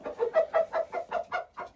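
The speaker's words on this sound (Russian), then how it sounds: "Петушок зовет всех" A rooster calls to hens with a quick rhythmic run of about eight close, clucking calls at an even pace.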